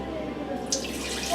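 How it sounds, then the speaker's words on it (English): Homemade pear cider is poured into a pitcher, a brief close liquid trickle and splash under a faint background hum. "We're just going to pour it into a pitcher."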